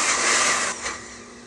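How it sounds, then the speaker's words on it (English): A blender briefly pulses baked butternut squash, a loud close whirring burst that dips, surges once more and winds down. "what we're going to do is we're just going to kind of pulse it a little bit"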